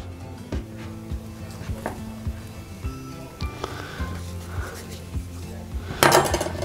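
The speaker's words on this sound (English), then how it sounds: "I'm just going to cut it with a knife." A knife cutting yeast roll dough for cast-iron rolls, heard as a series of dull, irregular taps and thuds on a board, with a louder clatter near the end.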